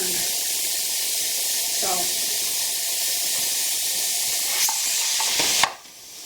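Steam hisses steadily out of a pressure canner on a high burner while red kidney beans are canned, a loud continuous broadband rush with a few brief spurts near the end before it suddenly drops off.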